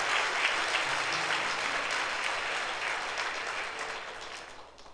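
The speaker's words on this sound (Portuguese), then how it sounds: "Então, por favor, dê um aplauso ao Senhor Jesus." Church congregation at a Sunday service applauding steadily, a dense continuous wash of many hands clapping that slowly tapers off.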